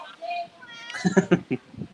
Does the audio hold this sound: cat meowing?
yes